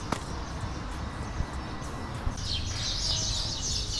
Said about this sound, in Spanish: Ahí se puede escuchar el sonido de los pájaros.